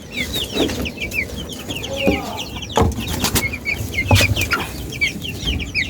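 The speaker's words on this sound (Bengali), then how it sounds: "এই যে আমার মুরগির ঘরটা আপনাদেরকে দেখাই মুরগিগুলো কেমন আছে" Chickens in a home coop give steady, busy clucking from several birds at once, with a few faint thumps and shuffles mixed in.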